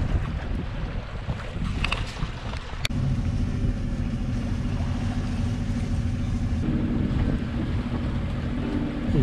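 On a sailboat sailing under a genoa, the engine hums at 1800 rpm beneath steady wind buffeting and the wash of water against the hull, a continuous low drone with no talking.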